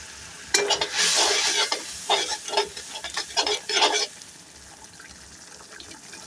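A thick potato and dried pea curry gravy bubbling and spluttering in a pan, with several bursts of loud wet popping and stirring over about four seconds, then a quieter steady simmer.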